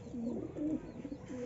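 A pigeon held close in Gulbarga gives a couple of soft, throaty coos, rising and falling in short rolling phrases, heard near and alone.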